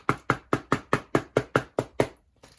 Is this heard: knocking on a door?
yes